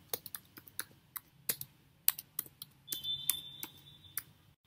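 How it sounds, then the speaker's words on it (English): Typing on a computer keyboard: quiet, close, irregular key clicks tapping out a short search query, a few scattered strokes and a brief quick run, with no speech. "In the search bar, type in at home advisors."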